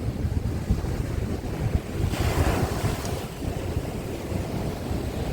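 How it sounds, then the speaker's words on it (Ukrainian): Stormy Black Sea surf on the Odesa coast, a steady loud roar of breaking waves mixed with heavy wind buffeting the microphone, with a surge of crashing water partway through and no voices. "Подивіться на цю стихію, яке наше морічка, як воно хвилюється"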